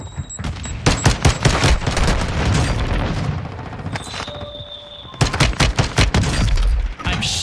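Rapid bursts of pistol gunfire in a first-person shooter video game, with dense sharp shots clustered in volleys, a brief quieter lull in the middle, then another loud flurry of shots near the end.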